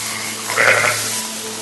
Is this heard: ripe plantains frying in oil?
no